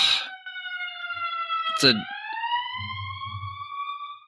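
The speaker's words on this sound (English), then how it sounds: "that was an ambulance" An ambulance siren tone with clear harmonics holds steady, then its pitch drops and rises again as it passes. Brief voice sounds break in partway through.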